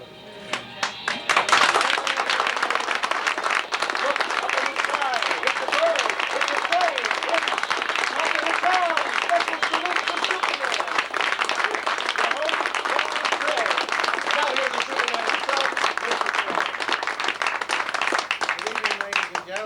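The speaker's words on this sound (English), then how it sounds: "Are we doing applause?" A live studio audience at a Long Beach show applauds throughout, a long, loud, even wash of clapping with voices mixed in underneath.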